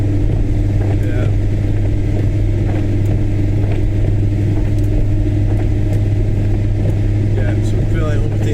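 A car drives on a wet road through a storm after leaving the Edinburgh Corn Exchange, with a steady, loud engine and road rumble throughout and rain hiss layered over it.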